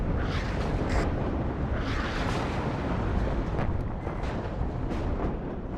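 Artillery shells landing in the real-time strategy game WARNO, heard as a dense, continuous roar of overlapping blasts and rumble that stays loud throughout, with no speech.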